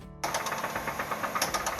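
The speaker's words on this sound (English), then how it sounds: "Customer states, knocking sound from engine bay." A rapid, rhythmic mechanical knocking from a running car engine that had gone 51,000 miles without an oil change, loud and close, beginning abruptly after a brief moment of quiet and continuing steadily.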